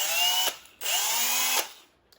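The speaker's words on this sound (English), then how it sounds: "Said my drill sounds like a bag of bolts." A worn power drill spins up twice in short high-pitched whining bursts with a gritty, rattling edge, loud and close, each run stopping abruptly, with no voices.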